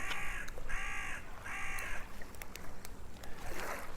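Green birds calling outdoors give three loud harsh caws close by, spaced about half a second apart, followed by scattered sharper chirps and clicks over a steady background hiss.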